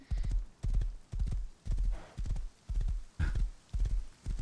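Horse hooves in the video game Rust clip-clop in a steady rhythmic series of paired thuds, close and loud, with no voices over them.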